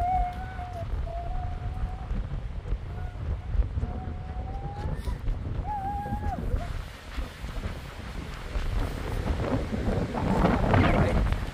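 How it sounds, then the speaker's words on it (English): Strong wind buffets the microphone beside Patricia Lake near Jasper, a steady low roar that swells toward the end, while a few faint tonal calls or whistles drift through early on. "It's very windy, guys."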